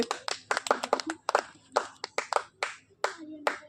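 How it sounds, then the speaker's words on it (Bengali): Children clapping their hands in a vegetable-picking challenge game, a string of fairly quiet, uneven claps with voices talking in between. "হাততালি দাও, হাততালি দাও, তোমার ইচ্ছে মতো তুমি তুলে নাও।"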